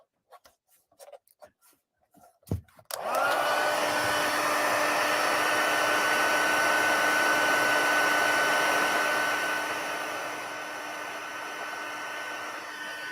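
A heat gun switches on after a few faint taps and blows steadily, a loud continuous whirring hiss that drops slightly in level near the end, used to melt gold embossing powder on a floral card.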